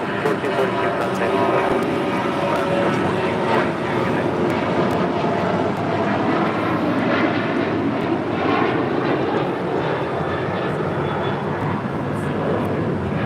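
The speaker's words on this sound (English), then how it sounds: "1442 taking off to Zihuatanejo on a 737-800." Alaska Airlines Boeing 737-800, flight 1442 to Zihuatanejo, taking off from runway 25 at LAX: a loud, continuous jet engine roar that stays broad and steady throughout, with voices talking underneath.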